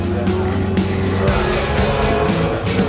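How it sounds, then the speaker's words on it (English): A V8-engined Ford GT40 race car at a Thruxton club track event roars loud and close, its engine note shifting as it drives past, with a voice talking faintly underneath. "Another gorgeous V8."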